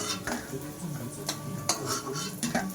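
Palm fruit pitha fry in a pan, a quiet low sizzle with scattered clinks and scrapes of a utensil against the pan as the cakes are turned, close and fairly soft.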